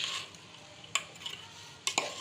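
Sweet zarda rice with coconut and almonds being stirred in a pot, a soft scraping texture broken by two or three sharp clinks of a spoon against the metal.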